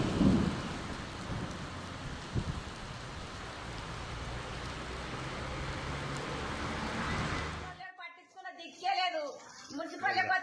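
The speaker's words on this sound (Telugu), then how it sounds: "సుమారు 2 గంటల పాటు భారీ వర్షం కురిసింది." Heavy rain pours down steadily during a two-hour storm in Kamareddy district, a dense loud roar with rumbles of thunder, which ends abruptly and gives way to someone talking.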